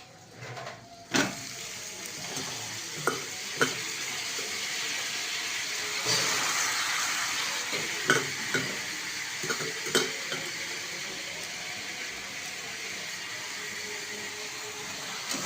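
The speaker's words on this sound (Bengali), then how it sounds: "এবার আমি এটার মধ্যে বাঁধাকপিটা ছেড়ে দেবো," Boiled cabbage stir-fried into a cooked-down masala, with a steady close sizzle broken by sharp spoon scrapes and clinks against the pan at irregular intervals.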